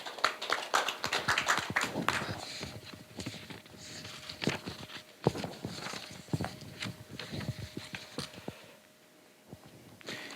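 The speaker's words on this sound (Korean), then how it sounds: "큰 박수 부탁드리겠습니다." Audience applause at a Gyeonggi-do policy debate forum on population decline, following a research presentation: scattered handclaps in a room, steady for about ten seconds and thinning slightly toward the end.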